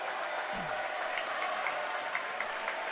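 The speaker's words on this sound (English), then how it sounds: "A little clapping." Crowd clapping at a high school district finals basketball game, a steady wash of applause that runs through the whole moment at moderate level.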